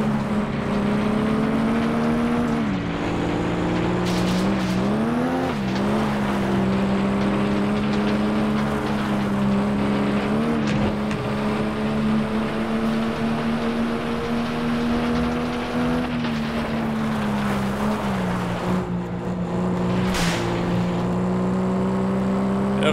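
A car engine drones continuously while racing in the FlatOut 2 demolition derby video game, loud and close, its pitch dipping and climbing with gear shifts and throttle changes, with occasional knocks and scrapes.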